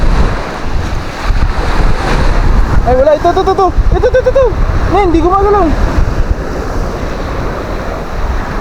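Steady surf and wind roar close to the microphone at a beach resort, with a few people talking briefly over the rushing sea noise.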